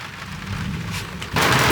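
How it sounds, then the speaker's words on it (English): Heavy rain pours onto a van in a thunderstorm, a steady hiss under low rumbling that suddenly intensifies into a louder, denser downpour near the end. "More thunder, and now the rain's starting."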